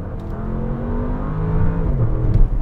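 A Bentley Bentayga Azure accelerates hard from a standstill, its engine note climbing steadily through rising revs and growing louder from inside the cabin, with no talking over it.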